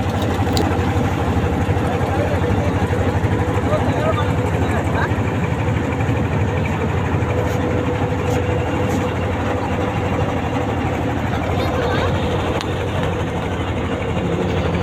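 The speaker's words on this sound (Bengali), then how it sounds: "এই যে আমাদের ট্রলারটি নৌকাটি ছাড়তেছে আস্তে আস্তে" Engine of a trawler boat pulling away slowly on the Jamuna river near Bangabandhu Bridge, a steady low drone that runs throughout, with people talking over it.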